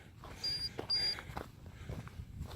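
Marco Polo Recovery System locator emitting two short, clear electronic beeps during a model rocket recovery search outdoors, followed by faint rustling footsteps.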